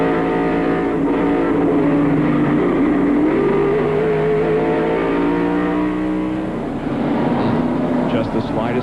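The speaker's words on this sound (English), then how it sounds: "From the in-car, look and listen to Rusty Wallace's spin." Rusty Wallace's NASCAR race car roars at high revs from inside the cockpit at Bristol in 1995. The engine pitch wavers, dips and climbs as the car spins out, with a commentator talking over it.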